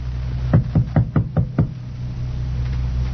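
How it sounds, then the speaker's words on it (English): Six quick, firm knocks on a wooden door, a radio drama sound effect, evenly spaced in a single close burst over a steady background hiss. "And then there was a knock on the door."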